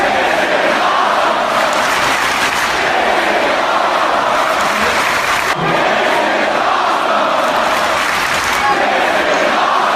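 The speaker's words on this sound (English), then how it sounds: "The crowd is not giving up." A wrestling crowd roars in a steady, dense wall of cheering and chanting, loud and unbroken throughout, with excited voices blending into the din.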